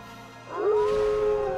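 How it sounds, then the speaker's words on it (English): Howling from the video game Okami, a single drawn-out canine-style howl rising in at about half a second and holding a steady, sustained pitch to the end, fairly loud over quiet game ambience with no talk. "Oh man, we're gonna howl it to death."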